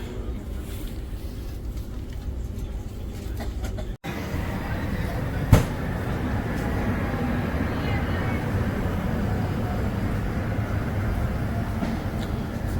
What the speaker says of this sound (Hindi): गुड़गांव रेलवे स्टेशन से डिपार्चर होते हुए